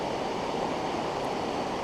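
A river flowing toward Burney Falls gives a steady, dense rushing wash of water, constant and fairly loud with no pauses.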